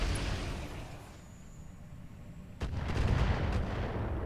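Mortar carrier artillery fire in the RogueTech BattleTech game, with a sharp blast partway through followed by a few rumbling impacts over a dense, steady battle din.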